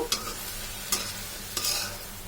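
Jute leaves (pat shak) cook in a pan under a quiet sizzle, stirred in three separate scraping strokes spaced evenly apart, close and faint, with no talking.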